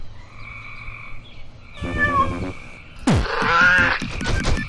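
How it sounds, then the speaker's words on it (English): Cartoonish cat meows from a quirky indie video game, a few short calls with pitch glides rising over other game sound effects and a sharp sweep, fairly loud and close. "There needs to be a cat over there."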